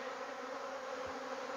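Bees buzzing steadily in a dense, continuous drone around an open hive during a beekeeping inspection, close and unbroken with no voices.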